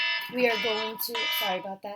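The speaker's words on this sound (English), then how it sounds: "that's my alarm." An alarm rings out with a bright, steady electronic tone during a math lesson on exponential equations, sounding close and continuous beneath a man's speech.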